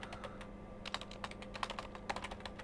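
Someone types a forum post on a computer keyboard, producing a steady, fairly quiet stream of rapid key clicks at close range with no voices.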